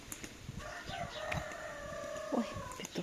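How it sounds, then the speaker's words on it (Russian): A rooster crows once at a distance, a faint drawn-out call over strong wind noise and small handling sounds outdoors. "Ой, петух кричит."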